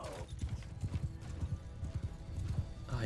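Horse hooves galloping in the Mount and Blade II: Bannerlord video game, a fast steady clip-clop of hoofbeats close up with a brief whinny at the start, continuous throughout.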